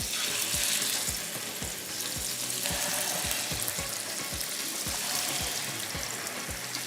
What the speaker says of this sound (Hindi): अभी जो थोड़े तैयार हो गए उनको फ्राई करना शुरू करते हैं